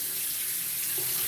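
Tap water running steadily into a sink for a post-shave rinse, a continuous close hiss with no voices over it.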